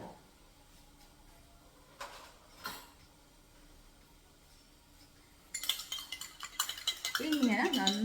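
A spoon mixes a mixture in a bowl, first quiet, then dense clinking and scraping strokes that start abruptly partway through and grow louder and busier toward the end.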